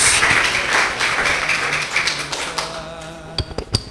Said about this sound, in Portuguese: Vocês podem aplaudir o Senhor nesta hora.